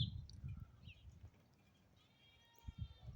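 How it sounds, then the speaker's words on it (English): A goat in a Northern Nevada high desert front yard bleats faintly from a distance, a wavering cry in the middle of the clip over low rumbling wind noise. "the goat's over there making noise"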